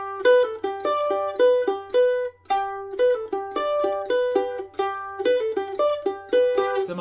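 Mandolin plays the opening bar of Miss McLeod's Reel, a fiddle tune ornamented with triplets, in quick bright plucked notes with steady reel rhythm and rapid triplet flourishes, close and clear with no voices.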